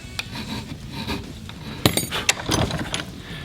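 A hand file rasps across a metal workpiece held in a bench vise, a series of close scraping strokes with sharp metallic knocks in between.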